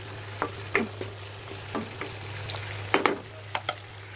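Chicken and vegetables stir-frying in a pan with soy sauce, a continuous sizzle broken by several sharp scraping and stirring strokes of a utensil, close and fairly loud, with no talking.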